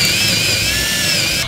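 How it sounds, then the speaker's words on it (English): Power drill pre-drilling holes for toggle bolts through freshly painted wall, a steady high whine running continuously and loud, alone without talk. "So I got a pre-drill"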